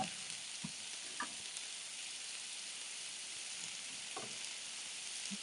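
Ukrainian kotlety, pan-fried meat patties, sizzle steadily in a pan with a continuous close hiss, broken by a few faint clicks and pops.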